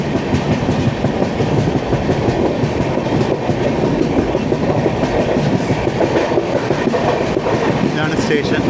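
The 12431 Rajdhani Express runs through Roha station without stopping, heard from on board as a loud, steady rumble with rhythmic clickety-clack of the wheels and rail noise throughout.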